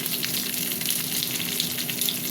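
Pointed gourd (potol) pieces frying in plenty of oil, a steady, close, even sizzle with soft crackles and no voices.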